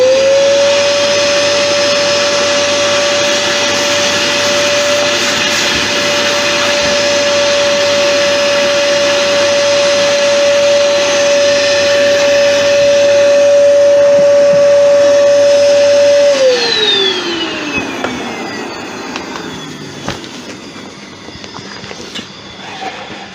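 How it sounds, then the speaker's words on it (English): A vacuum cleaner hoovers debris out of a tiger wood platter on a wood lathe before resin is poured, giving a loud steady whine that drops in pitch and fades as the motor winds down. "I'm going to hoover that off because I want to make sure there's nothing in here that's going to interfere with this resin."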